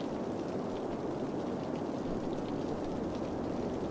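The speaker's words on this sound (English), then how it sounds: "Oh, it's raining." Steady, dense rainfall in the city-building game Cities: Skylines hisses evenly for several seconds, a continuous wash of drops with no talk over it.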